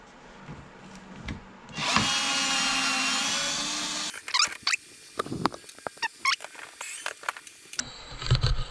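A power tool with a hex socket whirs for a couple of seconds while removing a small grill on a Lotus Elise, followed by clicks, clatter and handling of parts in a garage.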